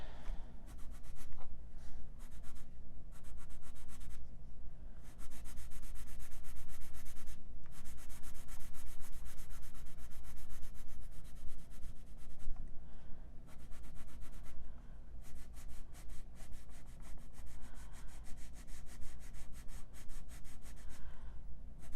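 Colored pencil pressed hard onto paper to smooth and blend a portrait, a steady dense scratchy rubbing that runs nearly continuously with brief pauses as the pencil lifts, close and fairly loud.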